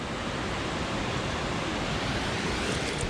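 A small waterfall in the New Zealand alpine backcountry rushes steadily and close, a broad, even roar of falling water with no voices.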